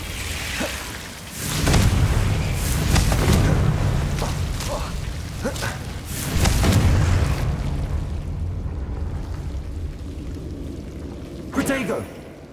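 A Confringo fire spell explodes in the video game Hogwarts Legacy, a loud booming blast with whooshing bursts that roll over several seconds before fading, and a short sharp pop near the end.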